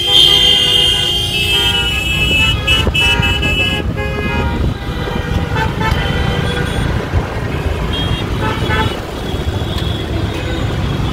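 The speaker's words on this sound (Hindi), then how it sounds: "traffic is so much" Busy road traffic in Lucknow, near Sahara Ganj Mall, fills the air with engine rumble and repeated car horn toots, several honks overlapping close by throughout, with faint voices in the background.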